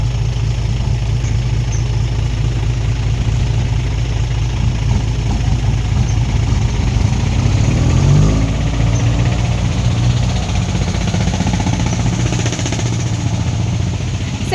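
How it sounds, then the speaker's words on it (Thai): A tractor engine runs at a steady low idle, loud and close, its deep chugging rumble continuous throughout. "ขับรถไถต่อเลย"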